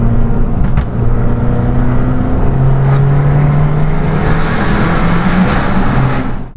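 Fiat 500 Abarth engine revving hard above 5000 rpm, a loud continuous droning growl heard from inside the car with a steady rising pitch and no talking.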